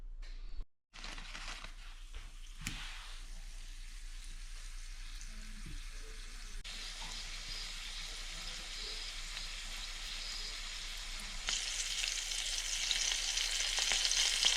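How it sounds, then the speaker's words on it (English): Flour-coated abalone (ormers) frying in a pan, a continuous fine crackling sizzle that starts after a brief drop-out and grows steadily louder and brighter toward the end, with no voices. "Can't beat a good old fry up of Ormers."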